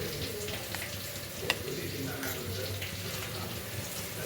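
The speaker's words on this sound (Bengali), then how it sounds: "আলুটা মোটামুটি লাল লাল করে ভাজা হয়ে গেছে" Potatoes fry in oil in a pan for cauliflower potato biryani with a steady, even sizzle and hiss at moderate level. There is one brief clink partway through.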